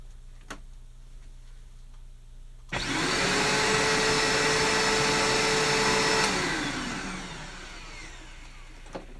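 A reconditioned 3522 vacuum cleaner motor switches on with a sharp start, then runs loud and steady with a high whine for several seconds before spinning down and fading out, alone without talk.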